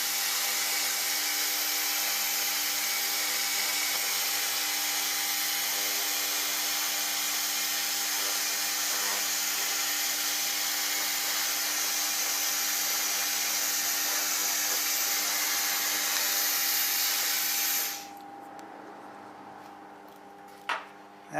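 An AccTek fiber laser cleaning machine scanning a metal surface gives a loud, steady, broadband hiss over a faint hum for about eighteen seconds, then cuts off abruptly and leaves a low background with one short knock.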